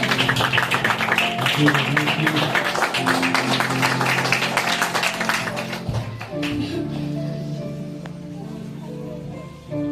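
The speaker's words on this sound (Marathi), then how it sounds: "समीरला देखील या ठिकाणी बोलवत आपण त्याच्यासाठी देखील जोरदार टाळ्या" Applause for Sameer at a community prayer gathering in a church prayer hall, dense clapping from a crowd that continues for several seconds before thinning out and fading, with some voices underneath.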